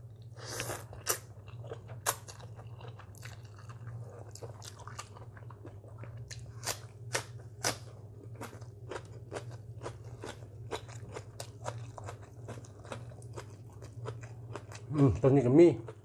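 Chewing spicy squid salad with banana, a series of wet crunchy bites and squishy mastication close to the microphone over a low steady hum, with brief talk near the end.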